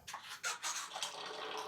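A bidet sprays water in a campsite restroom at a riverside camp in Zambales, a close, continuous hiss and splatter that swells in short pulses over about two seconds.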